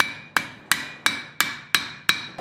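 Seven heavy blows from a big hammer land one after another in an even rhythm, each a sharp, loud crack with a short ringing tail, close by and with no talking.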